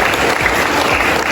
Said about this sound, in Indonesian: Tepuk tangan untuk kita semuanya Bapak Ibu.